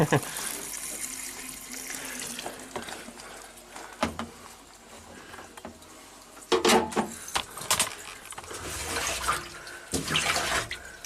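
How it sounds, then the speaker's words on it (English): Water splashes and trickles out of the cowl of a Nissan Maxima after its rubber drain grommet is pulled, a close, gushing flow with bursts of spattering and handling noise while someone talks. "Alright, time for some swamp drainage."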